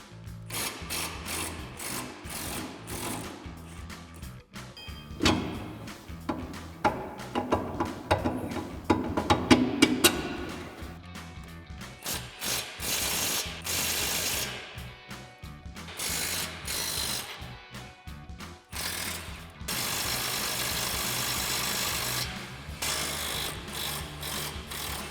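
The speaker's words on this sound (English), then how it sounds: "remove our U-bolts using a 21mm socket and a 21mm wrench." A hand ratchet turning a 21mm socket clicks rapidly in bursts and sustained runs while loosening the front suspension U-bolt nuts on a 2019-2023 Chevrolet Silverado 1500 pickup, close and clear with no talking.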